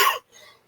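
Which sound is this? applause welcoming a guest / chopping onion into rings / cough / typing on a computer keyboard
cough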